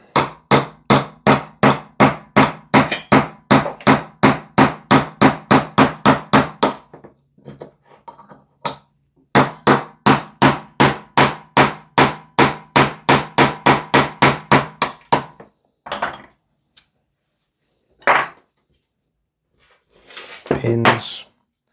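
A hammer drives a pin punch to knock pins out of a Salvo Precision Spear LT 11.5-inch gas blowback airsoft rifle, in two long runs of rapid, sharp, evenly spaced metallic taps, then a few scattered strikes.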